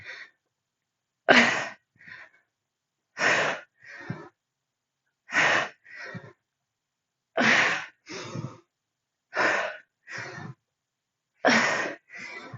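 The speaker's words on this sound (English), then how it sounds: "Make sure you're not holding your breath. Exhale with effort." Effortful exhaling during a squat workout, six paired sharp forceful breaths in a regular rhythm roughly every two seconds, close and clear with silence between, no speech.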